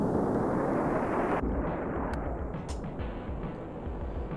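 Heavy, rumbling explosions in a Star Wars video game, a dense continuous boom with layered blasts that stays loud and close throughout, with no talk over it.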